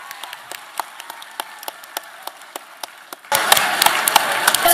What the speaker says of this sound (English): can we please have a huge round of applause for him once again?